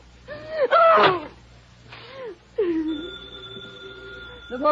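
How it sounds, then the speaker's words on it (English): A telephone bell rings in an old radio drama, a sustained ringing tone that overlaps gasps and exclamations from a nearby voice. "The phone kept ringing."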